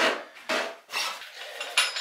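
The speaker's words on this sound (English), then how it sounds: "continue sanding" Mesh sanding screen rubbed by hand over a surface during shower plumbing repair work, giving repeated rasping strokes in short bursts, close and fairly quiet.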